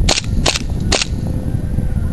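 M1911 Colt gas blowback airsoft pistol fired three times, each sharp crack spaced about half a second apart, close and loud over a low background rumble.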